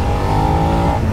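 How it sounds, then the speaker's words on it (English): Engine rasp from the airbox of a 2021 Suzuki SV650 motorcycle as it accelerates, a loud, steady, close-up drone with a sustained tone and no talking. "You do get quite a nice rasp from the airbox up front."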